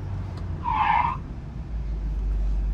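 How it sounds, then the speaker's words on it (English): A Nissan 240SX (S14) brakes hard on freshly burnished new brake pads, and its tires lock up and skid with a sharp squeal of about half a second. The car's engine and road rumble continue underneath. "So I'm testing out the 240 with the new brakes."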